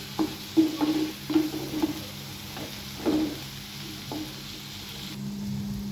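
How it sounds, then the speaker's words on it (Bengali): Hot oil crackles and sizzles under a steady hiss, with a few sharp pops and spits scattered through the first half. "ডিপ ফ্রাই প্যানে মাছটা ভেজে নিই"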